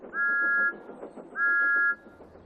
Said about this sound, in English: Thomas's whistle sounds like this in the countryside.